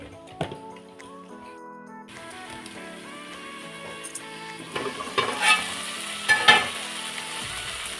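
Liver with ground masala of ginger fries in a pan, a low hissing sizzle under faint background music, with occasional louder stirring scrapes and clinks toward the end.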